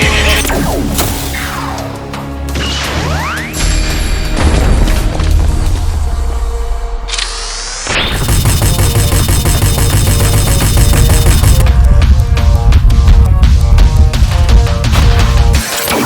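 Cluster bomb blasts in the 1984 Transformers G1 cartoon, a series of booming crashes and whooshing energy effects, loud and layered, with a sustained roaring barrage in the second half.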